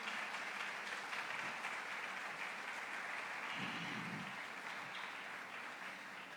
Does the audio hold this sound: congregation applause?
yes